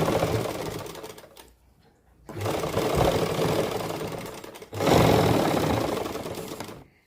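Sewing machine running in three long bursts, stitching lace along the edge of a suit, with a brief quiet pause between the first two runs; steady mechanical whir, close and fairly loud, with no talking.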